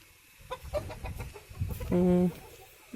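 Young chicks and hens in a backyard coop, mostly country-breed chicks, give short clucks and peeps at close range, ending with one louder sustained call.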